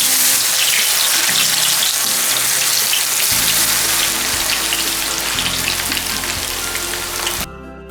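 Cassava (tapioca) chips frying in hot oil give a loud, continuous, hissing sizzle with crackling bubbles, close up and steady throughout before easing off near the end.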